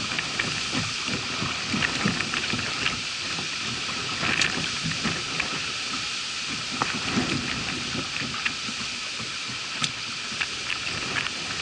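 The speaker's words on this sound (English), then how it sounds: "Just the wind." Wind gusting steadily through a Jacksonville neighborhood in the aftermath of Hurricane Irma, a constant broadband roar with rain-like patter and occasional brief knocks, heard close and continuous without speech.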